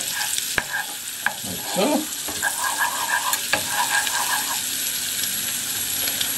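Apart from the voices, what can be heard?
stirring and frying in oil and butter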